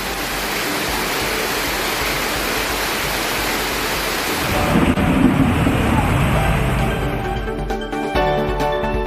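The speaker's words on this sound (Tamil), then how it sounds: "கோயில் திருப்படியில் அருவி போல தண்ணீர் ஆர்ப்பரித்து கொட்டியது" Heavy rain after more than an hour of downpour in Tiruttani sends water gushing like a waterfall down temple steps, a loud continuous roaring rush that shifts to a deeper churning splash midway.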